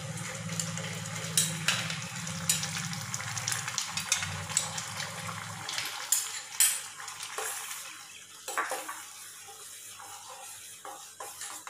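Ground almond and cashew paste stirred into semiya and sago milk payasam, with a ladle scraping and clinking against the pot amid soft wet swishing and an underlying hum that drops away halfway through.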